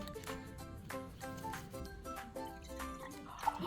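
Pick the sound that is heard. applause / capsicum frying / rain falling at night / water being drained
water being drained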